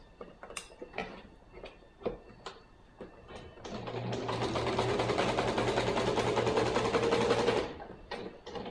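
Sewing machine running in one steady burst of about four seconds, stitching a fabric edge to lock in yarn on a stuffed hooved-animal body, with soft handling clicks and rustles before and after.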